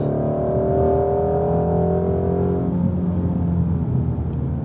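2018 Ford Mustang Shelby GT350 engine heard from inside the cabin, a loud, steady rumble whose pitch sweeps down as the revs fall during a downshift, with no voices over it.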